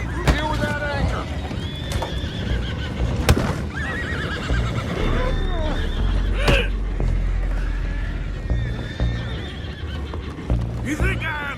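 Several horses whinny and neigh repeatedly amid clopping hooves and creaking wood on a boat in Red Dead Redemption 2, with characters talking over the commotion and a low rumble underneath.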